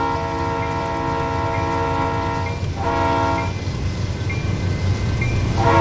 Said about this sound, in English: So we're coming up to a railway crossing right here.